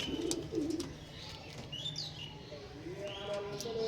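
Big breeder pigeons in a loft giving soft, rolling coos and a few higher chirps, close and continuous against a steady background murmur.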